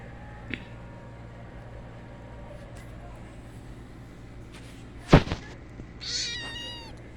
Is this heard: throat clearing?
no